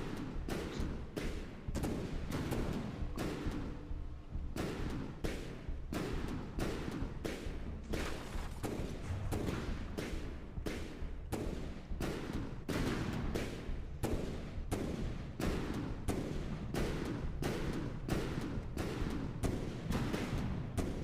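Rear guns on a warship in a naval video game fire shells in a long, steady barrage of heavy booming shots. The dense bursts come every half second or so and keep a constant loud level, with no talk.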